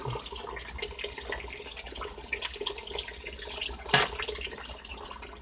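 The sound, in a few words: steady stream of water filling a small bowl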